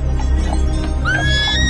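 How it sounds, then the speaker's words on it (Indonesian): A horse whinnies in a rising then falling neigh, close and fairly loud over a constant low rumble. "aku seperti mendengar suara rintihan kuda."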